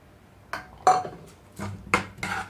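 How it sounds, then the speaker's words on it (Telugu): Coarsely ground ivy gourd and red chilli chutney is mixed into a tempering in a pan, heard as five separate sharp clinks and scrapes of a spoon against metal, close up, with quiet gaps between them. "ముందుగా చట్నీ అంతా కూడా ఈ పాన్లోనే వేసేసుకుంటున్నాను తాలింపు మొత్తం కలిపేస్తున్నాను"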